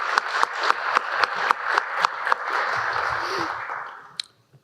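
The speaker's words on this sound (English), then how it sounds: "Give him a round of applause." A conference audience at a logistics leadership event applauds a keynote speaker, with distinct claps swelling into a steady, moderately loud round of applause that fades away near the end.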